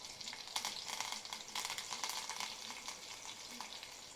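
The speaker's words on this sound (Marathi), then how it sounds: "आपला लसूण झालेला आहे कडीपत्ता पण टाकून घेऊ" Curry leaves hitting hot oil with frying garlic, a steady close sizzle with crackling spits and stirring scrapes running for several seconds.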